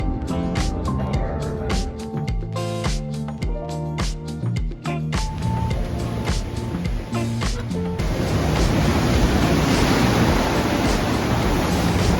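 Steady broadband rush of ocean waves heard from aboard a ship at sea mid-Atlantic, loud and continuous, with a sustained hiss swelling louder toward the end and no voices.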